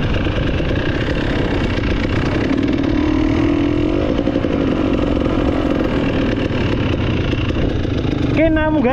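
A motorcycle engine runs steadily nearby in Bali, a mid-pitched drone holding throughout with slight rises in revs, while people talk faintly under it.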